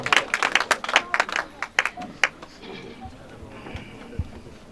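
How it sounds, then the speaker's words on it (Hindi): Audience members at a Chhattisgarh Diwali poetry gathering clap in a sharp, uneven flurry that thins into a few scattered claps, with voices murmuring beneath. "एक बार ताली के झनकार के साथ बादल जी।"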